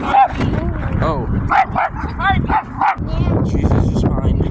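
Dog barking at an outdoor dog park, several sharp yips and barks in quick bursts, close and loud, with people talking over and between them.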